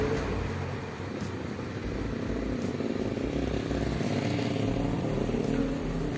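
A small scooter engine running close by, its motor buzzing steadily and rising in a few gentle revs over several seconds.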